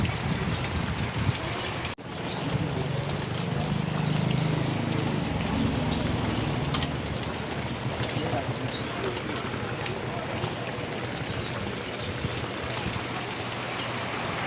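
Heavy rain pours down on a vegetable garden in a steady, dense patter, loud and close, with a brief sharp knock near the start and faint voices in the background.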